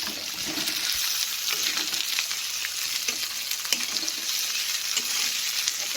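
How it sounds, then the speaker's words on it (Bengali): Garlic and ginger paste fry and get stirred in a pan: a constant loud sizzle with quick scraping spatula strokes throughout, no voices. "রসুন বাটা আদা বাটা সবগুলো একসাথে দিয়ে ভালো করে মিশিয়ে নেব"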